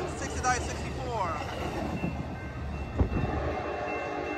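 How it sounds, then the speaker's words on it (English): An Amtrak Capital Corridor train led by an F59PHI diesel locomotive rolls southbound past a trackside spot in San Leandro, California, with a continuous rumbling roar and a brief horn-like tone early on. "there go that train southbound towards San Jose Diridon Station"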